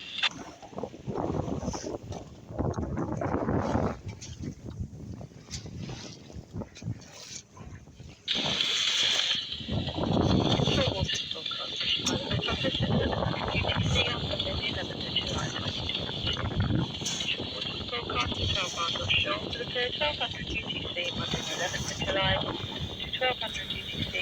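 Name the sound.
boat crossing choppy sea with rolling swell and wind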